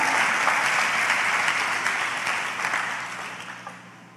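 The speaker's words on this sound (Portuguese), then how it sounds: "Dê um aplauso ao Senhor Jesus" Sustained applause from a youth church congregation fills the hall, loud and dense at first, then gradually thinning and fading toward the end with no voices over it.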